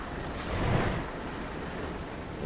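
Rain patters steadily in Euro Truck Simulator 2 while a Volvo truck sits in the storm, a soft, even hiss that swells slightly near the start.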